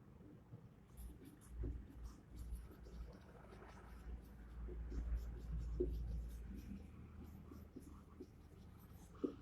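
A pen scratches steadily across paper in short strokes, quiet and close, with faint low background rumble and no voices.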